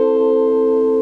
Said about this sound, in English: So I'm going to demonstrate it on the guitar.